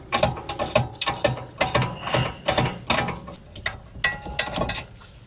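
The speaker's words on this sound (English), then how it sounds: "We can get our little ratchet on it then." A hand ratchet clicks in quick, repeated bursts while loosening the rear brake caliper bolts on a 2011 BMW 1 Series, close and fairly loud with no talking.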